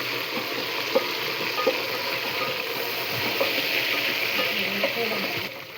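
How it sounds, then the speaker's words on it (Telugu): Mint leaves fry in hot oil with whole spices and green chilies: a steady, close hiss of sizzling, broken by occasional light clicks from stirring in the pan. "పుదీనా ఇట్లా ఆయిల్లో ఫ్రై చేసుకుంటేనే బాగుంటుంది."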